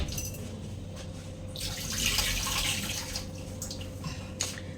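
Tap water runs steadily while ginger is rinsed in a home kitchen, with a swell of louder splashing midway and occasional drips, close by and without talk.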